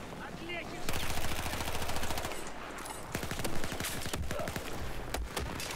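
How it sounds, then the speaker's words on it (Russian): Sustained automatic gunfire from all directions among ruins in a video game, dense rapid bursts of machine-gun fire, loud and continuous, with a player's voice talking over it. "Со всех сторон стреляют на развалинах"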